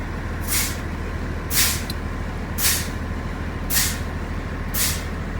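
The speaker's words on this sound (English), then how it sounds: "I'm going to pump the brakes repeatedly until the light or the buzzer comes on" Five sharp hissing bursts of truck air brakes being pumped release at about one-second intervals over a steady idling engine rumble, close and loud.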